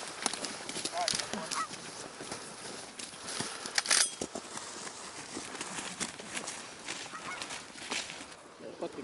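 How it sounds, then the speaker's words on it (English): Geese honk repeatedly outdoors during a late-season hunt in Wisconsin, the calls scattered and overlapping amid rustling and movement, fairly faint and somewhat distant. "What are those little geese?"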